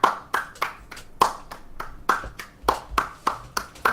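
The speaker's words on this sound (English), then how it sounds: "Let's get a round of applause, please." A single pair of hands clapping on a podcast, a dozen or so sharp, evenly spaced claps in a quiet room with nothing else over them.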